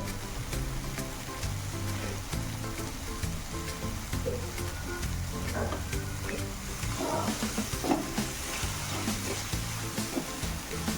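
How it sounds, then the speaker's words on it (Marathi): Egg ghotala, a dhaba-style egg dish, sizzles steadily in a pan as it is sautéed, with a constant frying hiss and occasional scraping stirs, close and moderately loud with no talking. "साधारण दोन ते तीन मिनटं छान असं व्यवस्थित परतून घेऊया"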